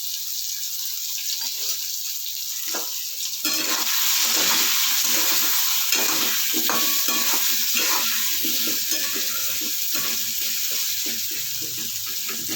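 Rice fries in a pan with potatoes, salt and turmeric, a loud, continuous sizzle broken by repeated scraping stirs, with no one talking over it.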